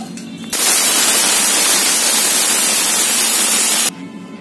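A mixer grinder roars loudly for about three seconds with a dense, steady whir, grinding ingredients to powder, starting and stopping abruptly.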